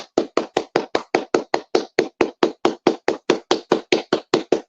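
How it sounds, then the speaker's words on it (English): A rapid, even run of about twenty sharp hand claps, close and steady from start to finish, with no talking. "Let me just clap my hands for you real quick"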